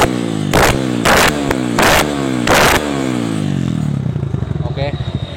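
Kawasaki KLX 180 trail motorcycle engine, freshly adjusted carburetor, revved hard in four loud bursts that fall back to a steady idle, with a quicker throttle blip near the end; close and prominent.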